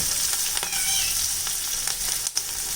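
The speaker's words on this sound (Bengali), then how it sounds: "এবার আমি এখানে ঝোলের ফোড়নের জন্য দিয়ে দিচ্ছি কালো জিরে আর 6-7টা মতো কাঁচা লঙ্কা।" Nigella seeds and green chilies dropped into hot oil as tempering for a fish curry, a dense, loud, continuous sizzle and crackle close up, with no talk.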